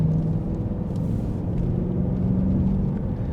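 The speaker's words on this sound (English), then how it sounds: "Now this is the original naturally aspirated 4-liter V8. It's dated, yes, but it's beautiful to drive. I mean, just listen to this." A BMW E92 M3's naturally aspirated 4-liter V8 engine runs with a continuous, deep, even rumble that holds steady throughout, heard alone with no talking.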